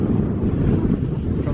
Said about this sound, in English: It's kind of cold and windy today.